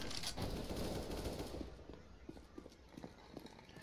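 AK rifle gunfire in CS:GO, a burst of rapid shots at the start that fades into scattered softer footstep-like taps and distant pops, fairly quiet overall with no talk.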